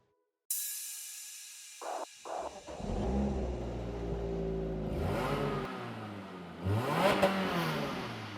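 A light Lotus Exige with a supercharged Toyota engine starts off and accelerates hard, engine revving up through the gears with rising and falling pitch, loud and close, with brief blips and shift breaks.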